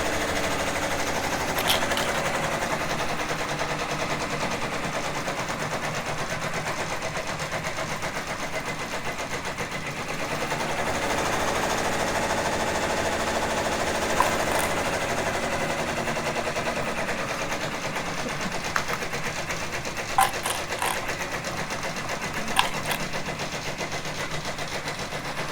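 A sewing machine runs a straight stitch on fleece for a scarf, its steady mechanical whir continuous and close throughout, with a few faint clicks near the end.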